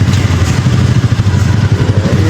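A motorcycle rides along a small road on a cold morning, its engine giving a loud, close, continuous rumble with a steady throbbing pulse and no pauses.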